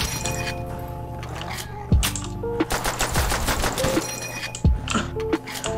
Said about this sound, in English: Makes the sound of the M1.